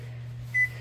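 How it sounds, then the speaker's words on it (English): A single short electronic beep from an oven timer being set while baking artisan bread, heard once over a steady low hum. "we are going to now set our timer"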